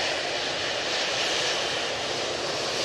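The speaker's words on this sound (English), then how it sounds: "We have that Jet2 powering out." A Jet2 airliner powers out on takeoff at Manchester Airport, its engines giving a loud, steady, broadband roar that holds without a break, with no voices over it.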